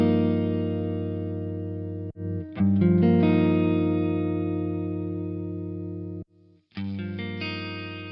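Electric guitar played through a MOOER GS1000 amp profiling processor set to its US Twin amp model, with loud sustained chords ringing out and brief gaps where the strings are cut off before strumming resumes.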